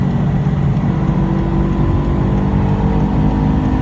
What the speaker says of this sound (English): It sounds so good. This is really quite an awesome car, Brent.